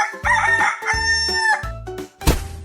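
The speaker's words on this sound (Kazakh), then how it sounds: "Әтеш." A rooster crows loudly and close by, a series of repeated harmonic calls in quick succession, followed by a short burst of clucking at the end.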